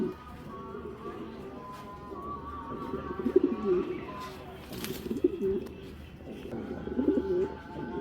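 White racer pigeons coo in soft, throaty, repeated phrases close by, swelling in several bursts over a low background murmur.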